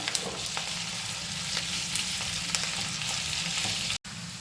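Green chillies fry in oil in a pan for chilli chicken, giving a steady close sizzle with light crackling and stirring throughout, broken by a brief cut near the end.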